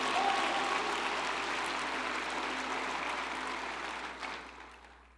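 Congregation applauding during a communion service at church, a broad steady wash of clapping that gradually thins and fades toward the end, with no talking over it.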